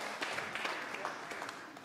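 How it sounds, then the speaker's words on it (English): A church congregation at a Sunday service applauds the children as they leave, a steady wash of many hands clapping at moderate loudness for a couple of seconds. "So let's give our children a lovely round of applause as they go."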